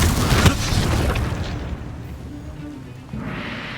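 Confringo blasting spell in Hogwarts Legacy goes off as a deep booming explosion up close, then the rumble fades into quieter game ambience before a soft rush returns near the end.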